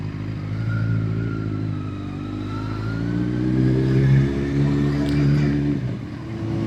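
A Kawasaki Z1000 motorcycle cruises at about 40 mph, its engine droning steadily with slight rises and dips and rushing wind, before easing off near the end.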